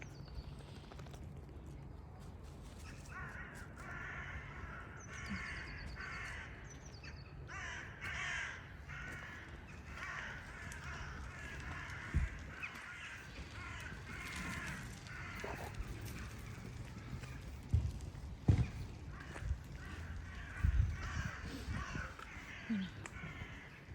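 Crows caw repeatedly outdoors during a walk as snow begins to melt. The harsh calls come in irregular bursts at moderate distance, and scattered footsteps and thuds sound closer.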